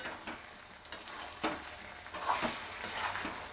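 Small soybean chunks and potato curry with spices being stirred in a pan, a soft continuous frying hiss punctuated by scraping spoon strokes and light clinks.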